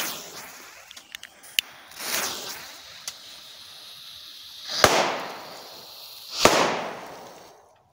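Several small firecrackers burst one after another, a few light pops early on, then two louder, sharp cracks with brief hissing tails, heard alone at moderate distance outdoors.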